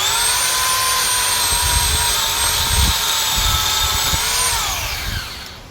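Corded power tool running on oil, used to trim tree branches, giving a steady, loud high-pitched whine with a few heavier bursts as it cuts, then spinning down as it is switched off.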